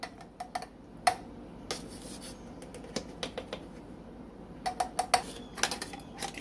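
A cornstarch and water slurry being stirred for gravy, with light irregular clinks and ticks of a utensil against a container, close and quiet with pauses between bursts.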